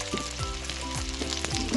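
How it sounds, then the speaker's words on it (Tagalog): Dried fish (tuyo) frying in a pan, a dense close hiss of hot oil crackling steadily through the short stretch, with a faint background hum and no talking. "Iprito muna namin ang tuyo."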